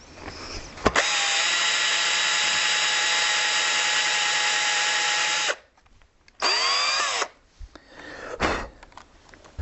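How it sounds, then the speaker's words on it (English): A power drill drives a screw extractor into a broken guitar screw shank, giving a long, loud, steady whine that cuts off, then shorter bursts with rising pitch and scraping between them, close up. "I can remove that shank with this screw extractor."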